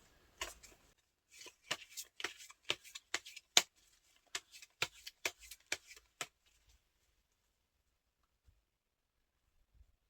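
Tarot cards are shuffled and drawn close up in a quiet room, a run of crisp riffling flicks and snaps in irregular bursts, followed by near silence with a couple of faint taps.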